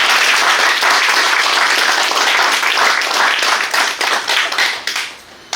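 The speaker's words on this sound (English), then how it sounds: "Let's give a round of applause." A crowd applauds steadily with dense, continuous clapping that holds strong before thinning out near the end.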